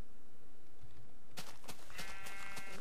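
Sheep bleating in the video game Minecraft, a couple of short bleats after a quiet moment, fairly clear and close against light background noise.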